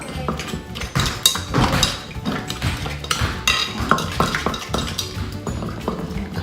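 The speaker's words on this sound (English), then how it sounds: "I'm gonna put fish sauce." Clinking metal utensils and a gentle liquid splash as fish sauce goes into a pot of crawfish, with scattered stirring and pot knocks at close range.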